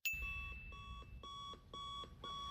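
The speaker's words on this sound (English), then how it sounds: "Movie introduces our protagonist with him waking up to his alarm clock beeping cliche" An alarm clock beeping in a movie, a steady pattern of repeated high electronic beeps in even pulses over a low rumbling background, fairly faint.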